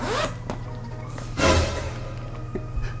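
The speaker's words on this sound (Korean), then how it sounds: "이 앞에는 또 지퍼가 있어요." A zipper on a bag is pulled open in several short rasping strokes, close and fairly quiet, with soft handling rustles between them.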